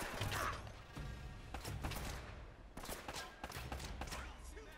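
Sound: enemy gunfire in Uncharted: Drake's Fortune video game

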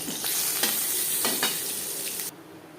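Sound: whole cumin seeds sizzling in hot oil after frying fish

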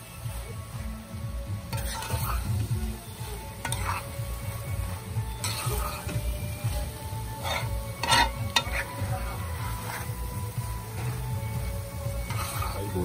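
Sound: long beans (bodi) and potato frying and being stirred in pan

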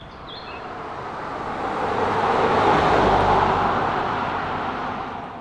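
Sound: all-new Land Rover Defender driving off-road

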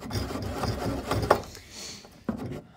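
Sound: hand saw cutting wood for a stopped housing joint

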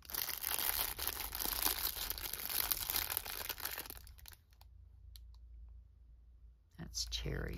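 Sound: crinkling of packaging

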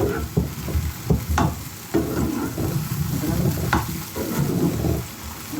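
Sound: chopped mushrooms frying in a pan

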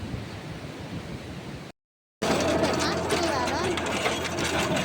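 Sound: tractor with rotavator tilling a field

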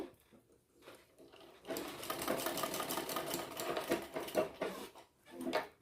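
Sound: sewing machine stitching bra-cut blouse front panel

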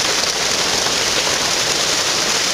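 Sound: rain starting to fall

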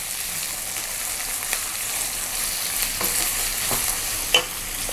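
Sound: onions sautéing in a pan for poori masala

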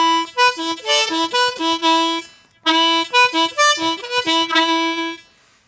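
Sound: Irish harmonica phrase played with single notes

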